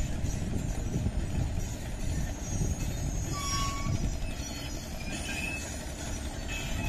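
A heavy trailer carrying a bridge girder rolls slowly down a steep slope at a highway construction site, with an excavator holding it back, producing a continuous loud rumble and grinding with a brief high squeal partway through.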